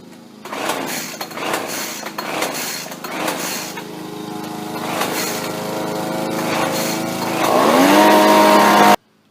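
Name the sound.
gas leaf blower engine starting and running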